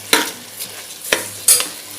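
Washed rice being stir-fried in a pan for mushroom biryani, with a few sharp scraping stirs at irregular intervals over a faint background sizzle.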